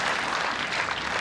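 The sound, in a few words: crowd applauding a lawn bowls shot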